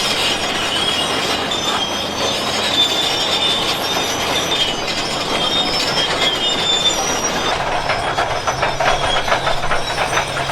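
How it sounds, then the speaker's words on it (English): Loud, constant grinding roar with hissing and squealing metallic tones from a Komatsu D375A bulldozer working on basalt rock, heavy machinery noise filling the whole stretch without pauses or voices. "This Komatsu D375A is literally working on top of the mid-Atlantic ridge, where the Earth is being torn apart."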